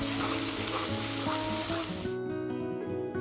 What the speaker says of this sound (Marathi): तेलामध्ये वाटलेलं वाटण आपण टाकणार आहोत. वाटण चांगलं परतायचं आहे